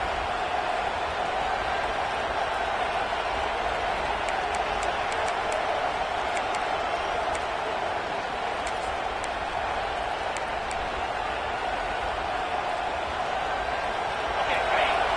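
Stadium crowd noise from an NCAA 26 college football video game, a steady, broad roar of cheering fans near the red zone, continuous and moderately loud throughout, with faint whistle-like tones drifting over it.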